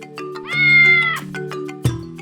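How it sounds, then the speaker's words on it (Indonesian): A Bengal cat gives one drawn-out, clear meow, close and fairly loud, followed by a short sharp sound near the end. "aku adalah si kucing Bengal"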